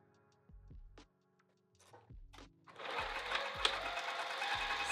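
Sewing machine stitching binding onto a fabric edge, starting and stopping in short bursts before settling into a steady, loud mechanical whir; no voices.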